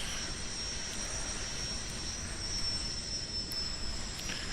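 An electric RC model airplane motor runs with a steady high-pitched whine over a soft rushing background, faint and distant, holding an even tone throughout.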